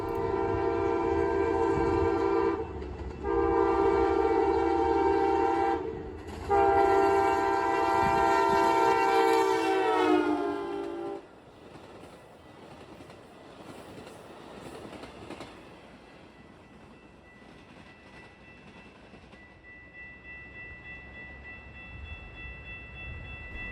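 The northbound Hiawatha passenger train passes with a loud, sustained multi-tone horn that is broken by short gaps, then its horn cuts off and the wheels rumble and rattle by, fading to a faint distant hum.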